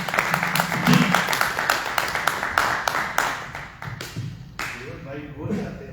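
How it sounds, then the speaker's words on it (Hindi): Church congregation claps loudly to welcome the pastor, a dense run of applause with sharp individual claps that thins out toward the end, while a voice speaks over it. "आइए हम जोरदार तालियों से पास्टर साहब"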